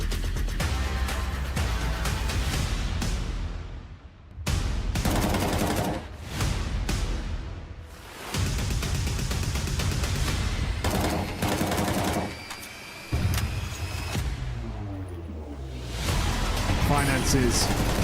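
Gunfire in Counter-Strike during a CS Asia Championships 2025 semifinal match, with rapid bursts and single shots recurring throughout under steady, excited casting commentary.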